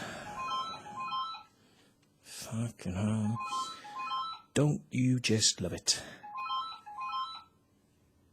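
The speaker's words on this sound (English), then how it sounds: "Answer the phone, please." A telephone rings in repeated short electronic trills, fairly faint, fading in and out between bursts of a man's close speech.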